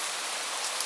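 Steady, even rain hisses on its own, a soft continuous wash with no distinct drops standing out, moderately quiet throughout.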